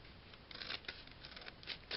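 Scissors snip through folded paper for a snowflake decoration, with faint, close, quick little cuts in an uneven rhythm.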